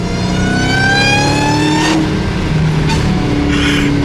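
Dodge Hellcat supercharged engine revving hard with a loud rising supercharger intake whine, pitch climbing through gears with a brief shift break, very loud and close.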